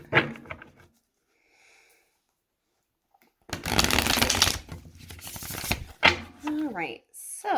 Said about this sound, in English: let's go ahead and shuffle the deck here a couple times